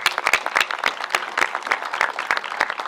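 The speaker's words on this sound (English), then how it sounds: "Let me give him a round of applause" A college audience gives a round of applause for benefactor Joe Wilson, many hands clapping in quick, uneven bursts.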